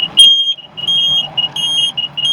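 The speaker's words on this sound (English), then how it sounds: "And you could hear his depth finder alarm going off." The depth finder alarm on a Larson boat with a fuel delivery problem sounds a loud, rapid series of shrill electronic beeps in an insistent rhythm over a low hum.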